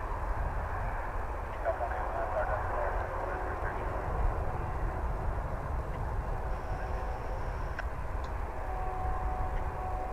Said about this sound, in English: Plane must have been fairly heavily laden to go down the runway that far.